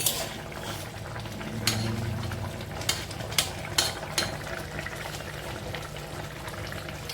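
Fish curry with eggplant simmering in a pot, a low steady bubbling with several sharp clinks and stirring knocks scattered through, no talking.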